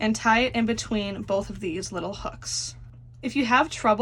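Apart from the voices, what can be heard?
None of the usual background noises is heard.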